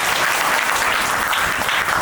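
An audience claps for a boy at a home-visit gathering with a swami in Motap, Mehsana, the dense steady applause filling the whole stretch at an even, loud level.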